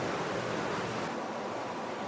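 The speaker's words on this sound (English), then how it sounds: "I can kick up a big wake." Wake waves kicked up by a hovercraft wash steadily against the water near shore, a continuous broad rushing surf sound with no talk.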